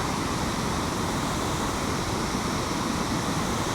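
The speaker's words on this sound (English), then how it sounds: "Indian Leap waterfall," The Indian Leap waterfall on the Yantic River in Norwich, Connecticut, runs at full, raging flow, a steady, powerful roar of rushing water that fills the whole moment without a break.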